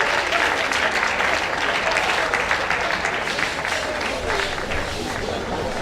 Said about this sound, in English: Clap for them as they move.